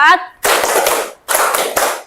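Group of people in a school ice-breaking game clapping a counted rhythm pattern, two loud bursts of sharp hand claps separated by a short pause, with a voice before the first burst.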